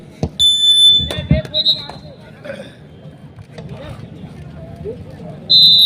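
Electronic timeout buzzer at a rural kabaddi match, sounding as short sharp tones at the start, middle and end amid crowd noise and thumps.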